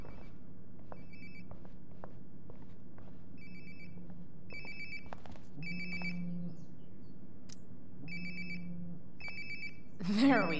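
Repeating electronic ring bursts of a phone sound in Life is Strange: Before the Storm, evenly spaced over a quiet low hum and ending with a brief rustle.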